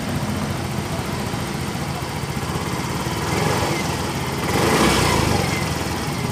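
A Yamaha Mio M3 scooter engine runs at a steady buzzing idle, then swells briefly as it is revved near the end, close and continuous with no talk.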